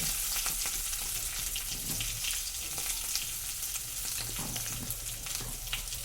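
Mashed boiled potato frying in hot oil, a continuous crackling sizzle with occasional stirring scrapes, close and steady throughout.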